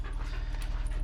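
A dog pants quickly and rhythmically at close range, short breathy huffs with a faint whimpery edge, heard alone without talk.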